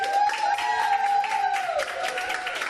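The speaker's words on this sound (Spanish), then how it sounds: "Ahora sí, así con aplausos" Hospital staff at Hospital José Molina Orosa in the Canary Islands applaud as a person leaves, sustained dense clapping with some cheering throughout, a tonal sound running underneath.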